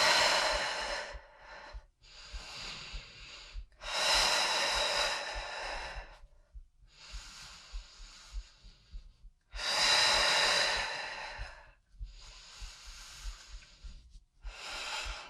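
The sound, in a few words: active exhales during twisting core exercise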